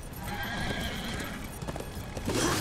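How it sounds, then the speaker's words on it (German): A horse in the Darksiders video game neighs while its hooves clip-clop steadily, loud and continuous over a dense game soundscape with no talk. "Herrlich, so ein Pferdchen."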